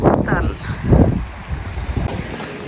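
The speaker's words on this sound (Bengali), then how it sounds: "আজকে বাতাস আছে অনেক বাতাস সমুদ্রে" Strong sea wind buffets the microphone in loud, gusty rumbles that swell and fade, with a gust peaking near the start and another about a second in, and a steadier rush after.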